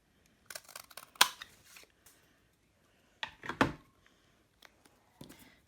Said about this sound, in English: I'm going to turn it over so I can see where I'm cutting.